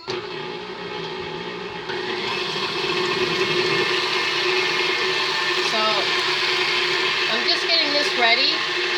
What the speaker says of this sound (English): I'm going to put this on the mixer to get that mixing really, really well